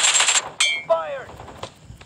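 Gunfire in the PUBG Mobile video game: a rapid burst of close shots followed by several single sharp cracks, with brief game voice effects in between.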